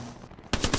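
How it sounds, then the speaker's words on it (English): Gunshots in a World War II-style shooter game against Germans, a short burst of two or three sharp cracks fired off to one side after a quiet stretch. "I hear more shots coming from the right."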